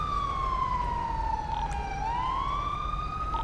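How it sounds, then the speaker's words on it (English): A police car siren in the video game GTA LSPDFR wails steadily, its pitch sliding down and then climbing back up. It is loud, close and unbroken for the whole stretch, with no talk over it. "I'm going to get the siren turned off."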